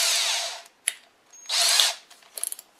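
A power drill drives standard black screws into wood in short bursts: two high whirring runs with a brief click between, then a quick series of ratcheting clicks at the end, close and clear.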